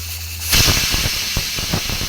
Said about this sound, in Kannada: ನೋಡಿ ಮೂರು ವಿಷಲ್ ಬರೋವರೆಗೂ ಸರಿಯಾಗಿ ಬಿಡಬೇಕು